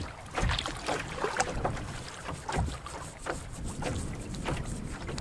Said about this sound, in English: Get these bugs off me first by paddling into the wind here.